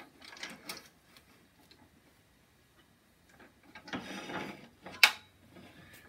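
A bolt is tightened on a replacement steering rack of a Snapper mower, heard as a few faint, sparse clicks and ratcheting scrapes with quiet gaps and one sharp metallic tick near the end.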